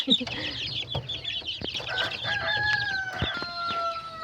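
Australorp and Atak laying hens cluck and squawk steadily while a rooster crows loudly nearby, with occasional sharp peeps and shuffling in a busy farm coop.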